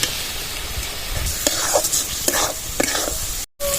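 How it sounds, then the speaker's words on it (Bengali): Tomato paste and slit green chillies sizzle in a pan for a fish-head dish while being stirred, giving a steady close frying hiss with scraping strokes and no talk. "টমেটোর পেস্ট দিয়ে দেবো চারটে চেরা কাঁচা লঙ্কা দিয়ে দেবো"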